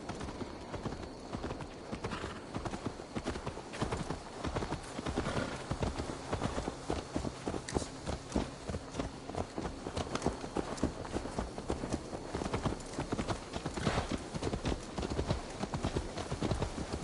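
A horse's hooves clip-clop steadily and without pause in the Assassin's Creed Valhalla video game, a continuous rhythmic trot heard close up over game ambience.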